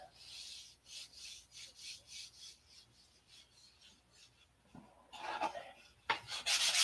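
Wooden model aircraft flaps being sanded by hand, giving a run of rhythmic rasping strokes about two per second, followed by a few harder, brighter scrubbing passes, close and moderately loud.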